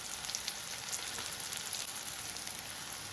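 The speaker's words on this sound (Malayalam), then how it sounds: "നന്നായി ഒന്ന് ഫ്രൈ ചെയ്യുക." Garlic, ginger and spice powders of coriander, chili, garam masala, cumin and pepper frying in a pan for a chickpea curry without coconut, a steady close sizzle with fine crackle throughout and no talking.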